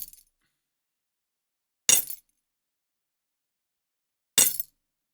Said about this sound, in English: There is a short clip of me trying to create armor hitting sounds.